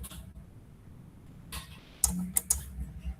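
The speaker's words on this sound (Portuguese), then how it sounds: "eu aperto o delete do teclado" A few sharp key presses on a computer keyboard, including the delete key, sound as distinct clicks close by over a quiet background, with a quick double tap near the end.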